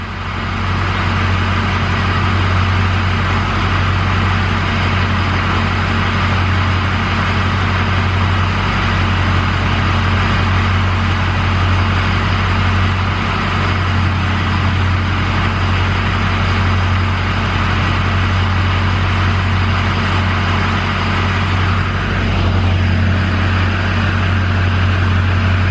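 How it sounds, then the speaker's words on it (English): Ford F250 truck with a 6.0 diesel engine idles steadily and close, a continuous low rumble with a deep hum that holds unchanged throughout. "Now let's start the truck up"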